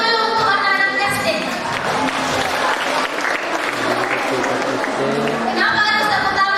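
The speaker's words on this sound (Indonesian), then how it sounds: "Tepuk tangan dulu untuk anak-anak SD." Full, dense applause from a crowd at a course graduation ceremony for primary school pupils, loud and sustained throughout, with faint voices mixed in.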